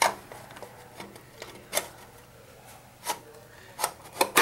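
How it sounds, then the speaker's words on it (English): A cover is fitted back onto a vibratory feeder amplitude controller, giving soft rubbing and scraping handling noises punctuated by a handful of sharper plastic clicks and knocks close by. "So let's put the cover back on."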